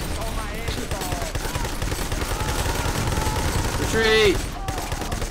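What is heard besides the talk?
gunfire in a video game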